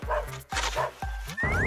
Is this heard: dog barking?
yes